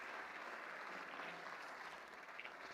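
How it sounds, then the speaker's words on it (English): Faint audience applause at a live business show, a soft continuous patter of many hands clapping, even and distant for a few seconds. "Let's give them a round of applause."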